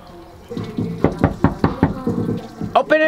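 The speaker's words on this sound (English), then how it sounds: "Open the door, Lucy, I'm home." Sharp knocking on a door, a rapid cluster of about six loud, close raps after a short muffled lead-in, with brief noisy clatter at the end.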